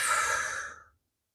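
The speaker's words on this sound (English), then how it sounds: "Keep breathing." A single long, deep exhale during a gentle recovery yoga session, breathy and close, fading out into silence.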